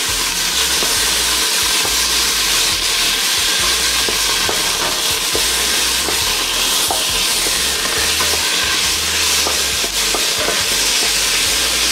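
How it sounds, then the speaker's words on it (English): Onions sweat and sizzle loudly in a pan for a cauliflower and spinach curry, giving a dense, constant hiss with occasional scraping stirs close by, and no one speaks. "Sweating the onions."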